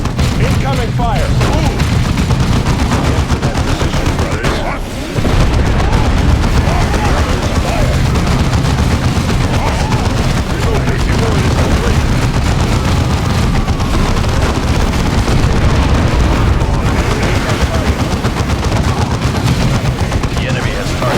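Heavy gunfire and explosions in the video game Warhammer 40,000: Dawn of War II, with continuous machine-gun chatter, booming artillery blasts and a deep rumble, loud and dense throughout, with voices shouting beneath the battle.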